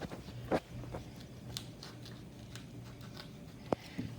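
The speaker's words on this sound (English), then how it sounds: "First you cut the core out." A knife cuts the core out of a tomato with a few soft, crisp snips and crunches spread over several seconds, quiet and close, with no talk.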